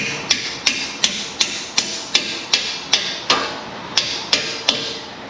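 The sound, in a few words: hammer tapping a part on a Toyota Tundra strut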